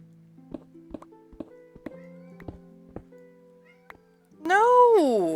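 A house cat lets out a long, loud, wavering meow right up close, after a run of soft taps and thumps, with a steady low hum underneath.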